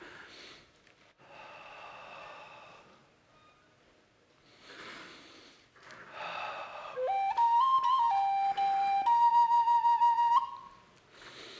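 A flute is blown hard, giving harsh, breathy rushes of air that later turn into shrill whistling notes, close and moderately loud with no talk over them.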